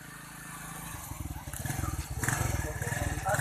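A scooter engine putters in and grows louder and closer with a rapid, pulsing beat, building steadily over a few seconds.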